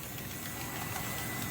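Model train motor of an Island Model Works resin kit for the South Shore line running at full throttle, a steady close mechanical hum with a constant rumble and no change in pitch.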